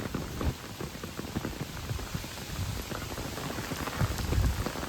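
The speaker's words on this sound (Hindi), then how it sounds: "यहाँ बारिश इतनी तेज है" Heavy rain pours down at the source of the Krishna River, a dense, continuous patter and splash close by, with occasional louder drops hitting a surface and no talking.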